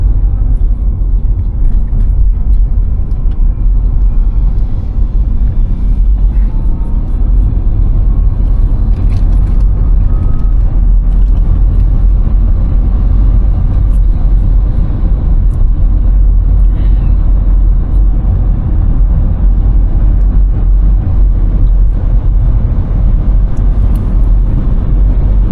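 Race cars at the Pikes Peak hill climb give a constant loud low roar and rumble, steady throughout, with no distinct passes or voices standing out.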